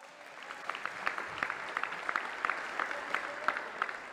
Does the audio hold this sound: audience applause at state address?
yes